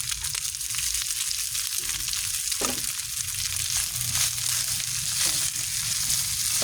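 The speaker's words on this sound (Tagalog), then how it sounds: "Yan ang way ko ng pagluluto ng fried rice." Leftover rice frying in a hot pan, a loud continuous close sizzle with crackling and occasional scraping, no voices over it.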